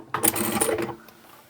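Sewing machine running a short burst while stitching a zipper onto a fabric bag, a close, fast mechanical whirr of about a second that stops and leaves quiet room tone.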